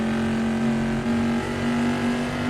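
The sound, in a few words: AC Legends GTC 60s Mod car engine accelerating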